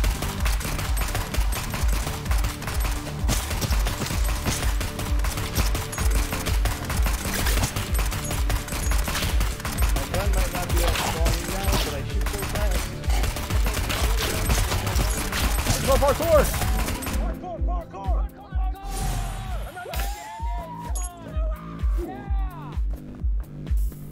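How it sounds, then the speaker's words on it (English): Rapid bursts of gunfire from the Neon Abyss video game, dense sustained shooting that pounds on for most of the stretch before breaking into sparser shots with game effects near the end. "I got hit, now I shoot fast!"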